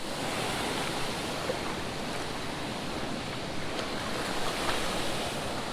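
Water from a creek waterfall pours in a steady broadband rush, constant and moderately distant, with no voices.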